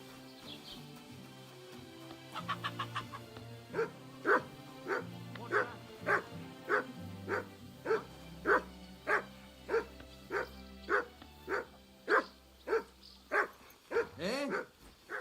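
A dog in the video game Kingdom Come Deliverance II barks in a long regular series of loud, close woofs, preceded by a few whimpers and yips.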